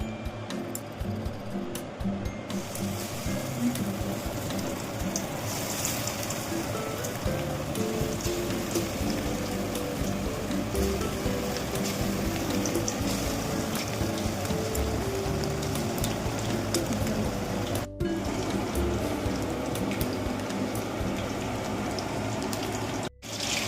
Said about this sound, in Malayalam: എണ്ണ ചൂടായി, നമുക്ക് ഇട്ട് കൊടുക്കാം.